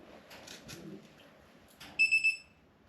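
Torque wrench beeping as it reaches torque while tightening a strut bolt on a Subaru Forester front strut install: three quick, loud electronic beeps near the end, after faint clicks and handling noise.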